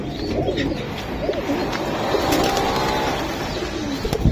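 Pigeons coo in repeated soft, throaty phrases, several overlapping, with faint chirps and a low background hum; no voices.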